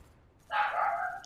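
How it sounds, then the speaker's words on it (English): A dog gives a single drawn-out bark or whining yelp, heard faintly in the background under a quiet room. "If you guys can hear my dog barking"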